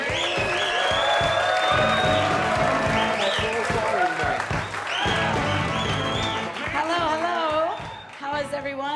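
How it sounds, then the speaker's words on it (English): At a comedy theater in Chicago, an audience claps to welcome the host to the stage, the clapping mixed beneath loud, prominent walk-on music with tonal melodic lines throughout. "those hands clapping and welcome to the stage your host"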